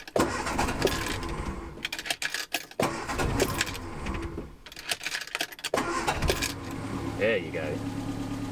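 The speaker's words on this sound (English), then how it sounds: "Come on, you old girl." An old Ford Anglia wedding car on a hot day, cranking unevenly in stuttering bursts before catching and settling into a rough idle, with someone talking briefly over it.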